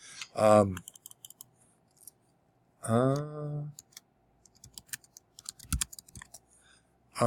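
Soft, scattered clicks of typing on a computer keyboard sound in the pauses between bursts of a person speaking, quiet and close.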